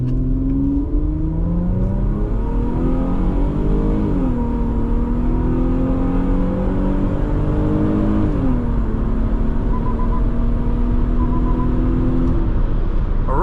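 A 2006 Infiniti FX35 launches hard from a standstill, its engine loud and close as the revs climb through distinct gear changes with brief dips between pulls, a continuous strong acceleration roar with no talking.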